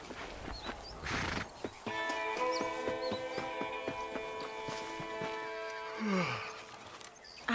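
Horse in the western game Red Dead Redemption, hooves clopping in an uneven rhythm, then a loud whinny with a sustained tonal cry and a falling snort near the end, with faint bird chirps behind.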